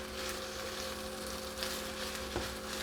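Garlic chili noodles with green onions sauté in a hot pan, giving a steady, close sizzle with a faint clink partway through and no talking.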